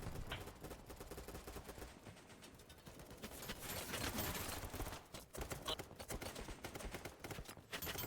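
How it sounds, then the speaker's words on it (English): Gunfire from a weapon in the shooter game Battlebit, with rapid irregular bursts and single shots crackling through the mix at moderate level, no speech over it. "This gun sounds pretty lame."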